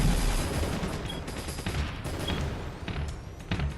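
Rapid machine-gun fire in the drone combat game Drone Striker rattles out in dense, uneven bursts, mid-level and slightly muffled, with scattered impact crashes layered under the stream of shots.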